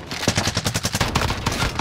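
Rapid automatic gunfire in Call of Duty Modern Warfare, a fast loud string of sharp evenly spaced shots bursting without pause for under two seconds.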